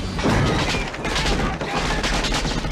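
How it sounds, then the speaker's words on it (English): Automatic rifle gunfire in an action movie at a Nakatomi building shootout, dense rapid bursts of shots with crashes and booms running continuously, loud and close throughout. "Police on automatic rifle fire in Nakatomi!"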